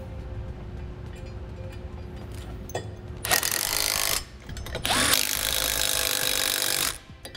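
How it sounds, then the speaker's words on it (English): A power impact tool tightens trailer hitch bolts on a 2013 Volkswagen during a Curt hitch receiver install, giving two loud buzzing bursts separated by a short pause. "We can use our ratchet or impact to get these tightened up."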